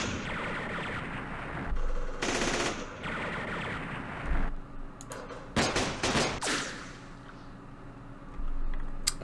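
Gunfire in the video game Campaign Series Vietnam during the Battle of Hue, with several separate bursts of machine-gun fire and single shots at moderate volume between quieter stretches.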